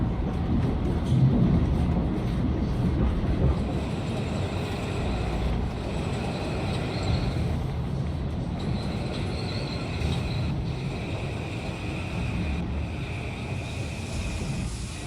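A Victoria commuter rail train on the Castleton Cross Line rumbles steadily between stations, its low continuous roar joined by faint wheel squeals and rattles, with no talking.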